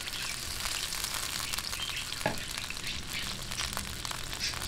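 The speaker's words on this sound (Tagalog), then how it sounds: "matapos po natin gisahin, lagyan po natin ng water" Water poured into a sautéed mix in a pan sets off a loud, steady hiss of sizzling that carries on evenly, with a faint clink of a utensil partway through.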